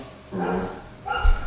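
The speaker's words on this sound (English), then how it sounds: "Oh, that's another dog. I thought that was my dog." A dog barks a couple of times indoors, the bursts fairly muffled and set back from a podcast studio's microphones, with a short deep thump near the end.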